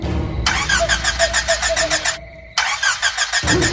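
A car in an animated horror film repeatedly cranks without starting in a remote forest, two bursts of rhythmic grinding starter whirring separated by a short pause, close and loud.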